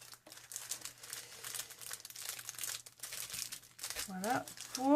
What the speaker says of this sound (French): je vais un peu rabattre les bords en fait de ma carte